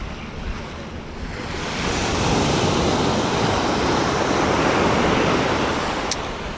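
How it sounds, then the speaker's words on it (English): Ocean surf at Bang Tao Beach in northern Phuket, Thailand: a steady broad wash of waves that swells louder midway, with some wind buffeting the microphone and no talking. "this is Bang Tao Beach, here in kind of the north of the island"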